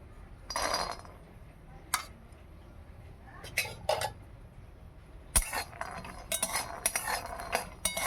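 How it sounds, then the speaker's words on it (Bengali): Peanuts dry-frying in a hot wok (kadai) on a stove: quiet, scattered clinks and rattles as the nuts are stirred, with irregular bursts of clattering separated by near-silent gaps. "বাদামগুলো প্রথমে ভেজে নিচ্ছি"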